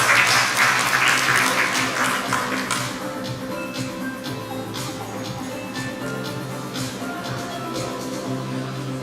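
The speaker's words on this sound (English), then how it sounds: "Let us give him a round of applause." An audience at a launch ceremony for a consumer complaints system applauds, a full round of clapping that starts loud and gradually thins out over about nine seconds, with a few voices underneath.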